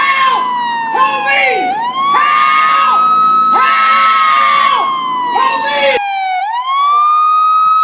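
A loud police siren wails in repeated rising and falling sweeps, breaking off briefly and then starting again, over faint crowd-like background noise.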